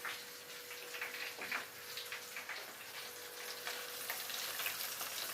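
Chicken frying in hot oil for a Nashville-style fried chicken, a steady dense crackle and sizzle with brief bubbling bursts, close and continuous with no talk.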